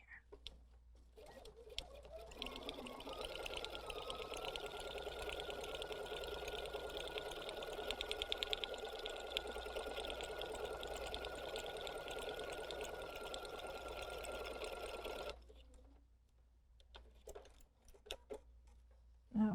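Bernina sewing machine stitching a buttonhole, a rapid steady mechanical whir and needle chatter running for about thirteen seconds before stopping, with soft handling noises at the start and end.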